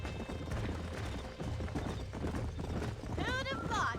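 Horse hooves clip-clop at a rapid rhythm in Red Dead Redemption, with a whinny near the end and people talking over it.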